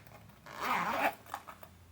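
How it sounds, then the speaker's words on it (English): A zipper on the front pocket of a new purse is pulled open in one quick, close rasping stroke lasting about half a second, followed by a couple of faint clicks. "There's the zipper."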